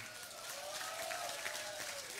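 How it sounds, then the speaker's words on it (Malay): Audience applause at a Barisan Nasional by-election campaign launch and candidate introduction, a steady dense wash of clapping filling the whole stretch at moderate level with a faint voice over it. "Kita bagi tepukan gemuruh kepada mereka."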